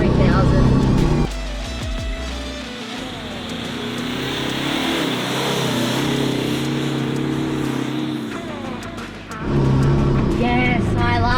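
A Toyota Hilux engine revs high in second gear, just over 3,000 rpm, a steady loud drone with engine swells at the start and end while people talk over it throughout.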